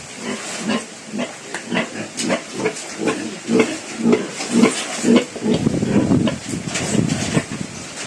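Rapid rhythmic pumping sprayer hisses in short repeated bursts, close by, spraying the floor of a backyard pig pen, with pigs grunting faintly underneath.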